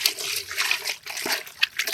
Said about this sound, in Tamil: தண்ணி ஊற்றுங்க, நல்லா கழுவி போட்டு.